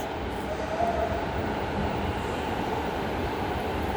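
A Singapore MRT metro train running steadily, a continuous low rumble and rolling wheel noise heard from inside the car, with no speech.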